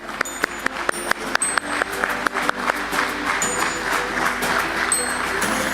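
An audience at a stock exchange listing ceremony at BSE starts with a few separate sharp claps that swell into sustained applause, while high, thin ringing tones chime over it now and then.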